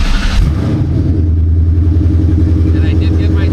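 A Coyote V8 swapped into a New Edge SN95 Mustang cranks and fires, then settles into a loud, steady low-pitched idle rumble that runs unbroken to the end.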